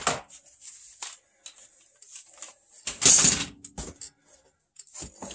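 Cheap socket wrench loosening the bolts on a failing Carrier furnace blower motor, a close burst of ratcheting clicks and metallic scrapes in short irregular bursts with quiet gaps between.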